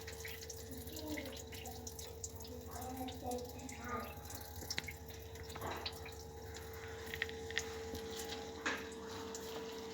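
Water sitting in a clogged sink, with faint trickles and drips over a steady low hum and a voice murmuring at times in the background.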